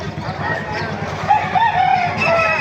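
White Kelso gamefowl rooster crowing nearby, a single drawn-out crow rising and falling over other fowl clucking and someone talking in the background.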